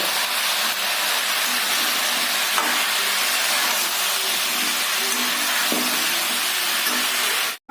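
Vegetables with spices and salt fry in a pan, giving a loud, steady, close hiss of sizzling oil with faint stirring scrapes, running unbroken until it cuts off abruptly.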